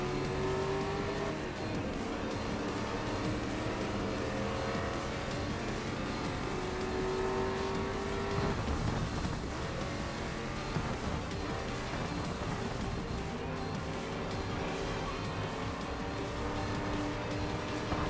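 A race car in the GRID Legends racing game roars along at speed, with the engine droning and rising through gear changes and brief tire squeals, loud and continuous throughout with no voices.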